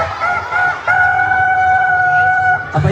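Children's voices imitate a rooster crowing, a loud, sustained cock-a-doodle-doo lasting a few seconds, close and alone with no other talk.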